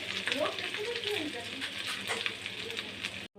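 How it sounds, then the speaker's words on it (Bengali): Ginger and turmeric fry in hot oil for a Bengali shukto, a continuous close sizzle with light stirring scrapes, steady throughout before cutting off abruptly at the end. "ভাজা হয়ে গেছে এবার ওর মধ্যে আমি একটু আদা দিয়ে দিলাম দেওয়ার পরে তেল ঠিক আছে তাই অল্প একটু হলুদ দিলাম"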